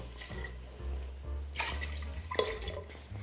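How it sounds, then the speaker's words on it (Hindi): One litre of water pours into a cooking pot, first as a short trickle, then as a steady close splash with a brief clatter near the end. "1 लीटर मैंने पानी डाला"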